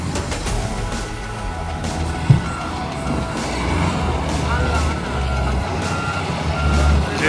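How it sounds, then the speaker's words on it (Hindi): A JCB excavator clears a rain-blocked mountain road near Zojila Pass, its repeated reversing beeps sounding at regular intervals over a loud diesel engine rumble and surrounding traffic, with voices audible nearby. "जेसीबी रास्ता क्लियर कर रही है।"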